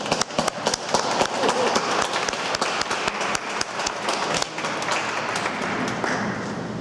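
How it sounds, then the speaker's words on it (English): Round of applause from the audience at a press conference, sustained dense clapping with sharp individual claps throughout, loud and close, with no talking over it. "I want to give you a round of applause."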